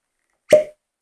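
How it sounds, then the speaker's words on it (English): A single short, close cork pop from a Christmas-release Scotch Malt Whisky Society whisky bottle, a sharp plop that fades within a quarter second into silence. "a very Christmassy cork pop"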